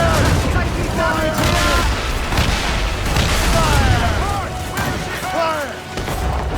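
Naval battle in Assassin's Creed Rogue with ship cannons booming in a rapid fusillade, heavy blasts layered with shouted crew voices and whistling projectiles.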